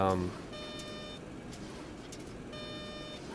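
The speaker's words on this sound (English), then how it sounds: "I think that beep means we're going too fast for the flaps I have set out" Flap overspeed warning in a FlyJSim Boeing 727 cockpit in X-Plane 11, a steady electronic beeping tone sounding in two stretches over a constant engine and airflow hum.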